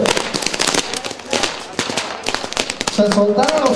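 Fireworks at a castle pyrotechnics show, a crackling stream of firecracker pops and bursts at close range, heard under a speaking voice and crowd noise, with a brief tonal squeal near the end.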